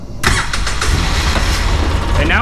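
A Polaris Ranger side-by-side engine cranks and catches, settling into a loud, steady rumbling idle close by for the rest of the moment.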